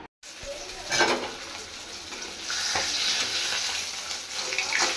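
Fish fries crisp in a pan with a soft, continuous sizzle that swells partway through, accompanied by faint watery splashes, at a low level with no talk.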